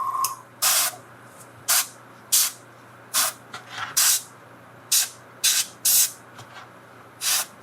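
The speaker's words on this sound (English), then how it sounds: "Some speed paint on a brush and an airbrush just for the air." An airbrush blows short puffs of air over speed paint on a miniature, giving about a dozen brief, close hissing bursts with quiet gaps between them.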